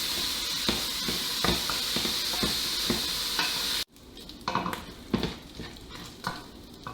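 Bacon sizzles in a hot pan with a steady hiss, broken by periodic stirring scrapes; the sizzle then drops away, leaving quieter clinks and stirring.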